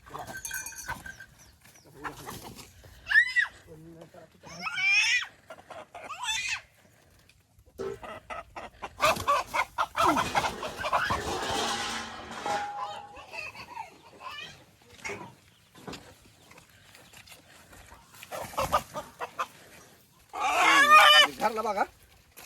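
A native desi rooster is grabbed and clucks and squawks in loud, uneven bursts at close range, with scuffling and pauses between the outcries.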